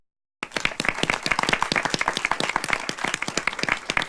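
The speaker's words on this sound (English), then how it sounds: "Could you all join me in giving a round of applause to our" An audience at a pitch event breaks into sustained applause after a brief silence, many hands clapping densely and evenly, fairly close and loud, with no talking.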